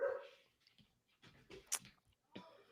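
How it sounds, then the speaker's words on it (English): A dog barks a few scattered times at a distance, faint and intermittent between quiet gaps, with a brief whine or yip mixed in. "I got distracted by my dog barking"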